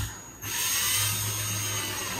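A cordless drill drives screws into a faulty Ryobi 40V lithium battery pack, giving a steady, close whirring drone that starts abruptly after a short pause and runs without a break.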